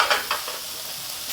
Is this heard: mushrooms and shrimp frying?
yes